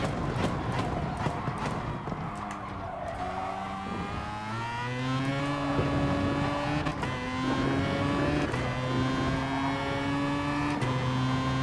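Race car in Gran Turismo Sport at Interlagos, engine whining up through the gears then dropping sharply under braking and downshifts, loud and continuous.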